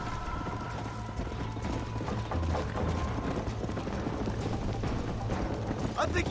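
Horse hooves gallop in a steady clip-clop rhythm through a western riding race, loud and continuous under a bed of outdoor noise, with people talking over the hoofbeats.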